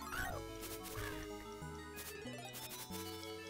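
Short quacks from a duck in the World of Illusion (Mickey & Donald) video game, two or three chirpy calls over steady, bright game music.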